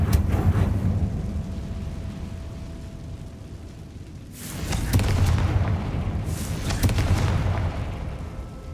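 Confringo spell explosions boom and rumble in the Hogwarts Legacy video game, with heavy low blasts swelling up in two waves after a quieter stretch, no talking over them.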